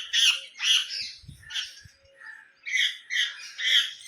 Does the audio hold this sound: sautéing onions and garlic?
no